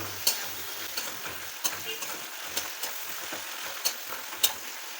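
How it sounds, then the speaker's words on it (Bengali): Onions and spices with salt and turmeric sizzle in a pan while being stirred for a boal fish mustard curry, a steady frying hiss broken by regular clicks and scrapes of the spoon. "এইবারে খুব ভালো করে এই মশলাটাকে কষিয়ে নেব।"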